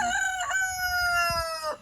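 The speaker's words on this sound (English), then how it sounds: "Right, there's always a rooster interrupting." One rooster crows loudly and close by, a single sustained cock-a-doodle-doo with strong harmonics near a farm fence setup, ending abruptly.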